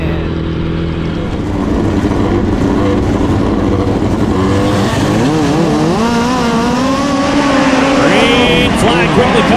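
Race cars roar through the opening lap of a heat race, with engines revving and rising in pitch as they pass close by, loud and continuous under a voice.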